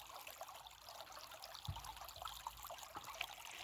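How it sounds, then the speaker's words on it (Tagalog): A flowing stream in Ireland trickles and burbles quietly at a distance, a faint continuous wash broken by a few soft splashes. "Yan ang batis ng Ireland."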